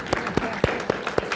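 Sparse audience clapping at a spiritual talk, a handful of distinct claps spaced evenly and fairly faint, with no one speaking.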